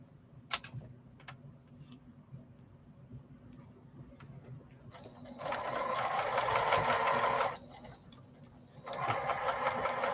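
Sewing machine stitching a quilt binding seam in two close bursts of steady whirring, the first about two seconds long, after quiet handling clicks and rustles.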